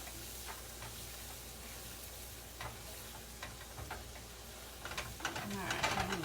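Flour being stirred into a hot pan for a pork chop and potato meal, a quiet scraping and stirring with faint sizzle that grows busier toward the end, with light speech nearby.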